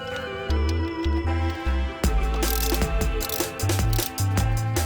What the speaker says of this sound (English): So now you can go ahead and do your socket from the inside